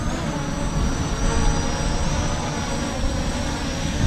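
An HS720R drone hovers before auto landing, giving a steady whirring buzz of spinning propellers with a thin high whine, fairly loud and even throughout, with no voices.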